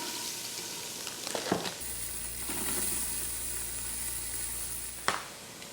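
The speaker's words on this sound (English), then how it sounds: "So I'm going to add onion to the pot." Onion is added to an Instant Pot and starts a soft, steady sizzle with a faint hiss. A few close clanks of utensils against the pot break in, a louder knock comes near the end, and the sound stays quiet throughout.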